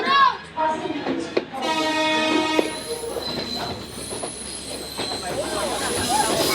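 Train running on rails in Sri Lanka, with rumbling wheels, metallic squealing and rattling carriages, loud and continuous and close by, with a harmonic horn-like tone early on and voices faintly mixed in.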